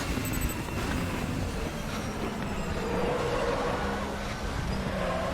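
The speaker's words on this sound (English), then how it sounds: "you can hear the car and see it go sideways" A race car slides sideways in a 90s DTM touring car racing video game, its engine a steady dense roar with faint tyre squeal, loud and continuous throughout without talk.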